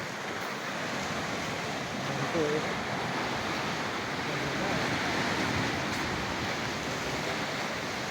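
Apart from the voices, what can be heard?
sea waves breaking on beach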